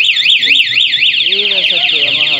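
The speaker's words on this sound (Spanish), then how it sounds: "ya está activa la alarma" A newly installed motorcycle alarm wails loudly and close by, a rapid up-and-down electronic siren that shifts into a different warbling pattern partway through, with a voice speaking underneath.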